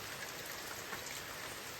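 Rain falls near a cave, a soft, even wash of dense patter with no breaks.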